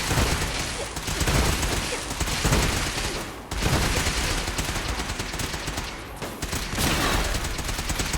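Repeated gunfire from a shotgun revolver mod in Fallout 4, a dense, loud barrage of shots and booms running almost without pause, with a brief drop near the middle.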